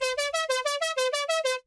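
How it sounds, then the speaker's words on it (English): Dry synth arp without effects, about ten short, evenly spaced bright notes stepping slightly in pitch, loud and clean, ending abruptly. "Without the effects it sounds like this."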